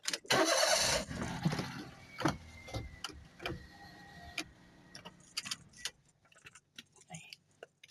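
Keys jangle loudly at the start, followed by scattered clicks and knocks inside a car, with a faint low hum that could be the engine starting; no one speaks.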